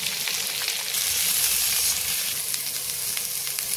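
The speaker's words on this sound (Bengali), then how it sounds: "দিয়ে কিছুক্ষণ সবজিটাকে ভেজে নেব।" Carrot, cabbage and onion frying with chopped ginger and garlic in a pan for veg chowmein, a loud, steady close-up sizzle throughout with no talking.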